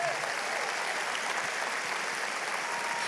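A church congregation at a Spanish-language service gives sustained applause, a dense and even wash of clapping that continues unbroken throughout and is heard alone.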